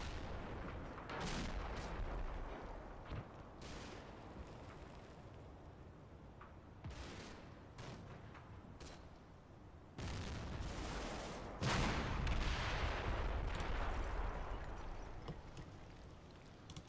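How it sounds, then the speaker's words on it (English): Machine gun bursts and heavy artillery-like blasts from the Combat Mission Final Blitzkrieg wargame, with crackling fire and booming impacts overlapping in dense, continuous battle noise, louder rolling blasts near the end. "Bit of MG fire on the gunner there."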